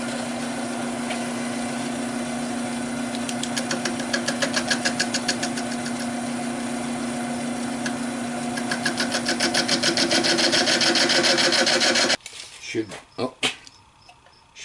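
A wood lathe turns a red cedar workpiece at about 300 RPM, a steady humming drone with a rhythmic pulsing as the tool cuts, continuous and close, ending with a few separate knocks.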